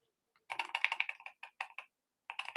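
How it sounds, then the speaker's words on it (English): Someone types on a computer keyboard, two bursts of rapid close key clicks separated by a short pause, crisp and clear with no talk. "my keyboard has decided to stop working"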